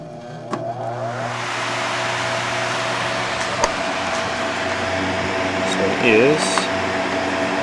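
A homemade box fan's motor drawing roughly 340 to 350 watts runs with a steady, loud whirring drone and mechanical hum throughout, with a person talking briefly over it.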